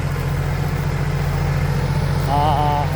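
A Massey Ferguson 4707 three-cylinder tractor engine runs at a steady low rumble while ploughing on sloped ground, with a brief tonal whine rising near the end.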